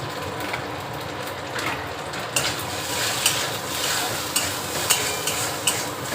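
Potato filling with coriander, cumin powder and salt sizzles in a pan while a spatula stirs and scrapes it, a steady frying hiss with sharp repeated scraping strokes growing busier in the second half, close and clear without talk.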